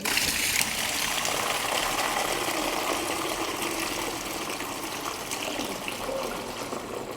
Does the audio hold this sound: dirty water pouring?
yes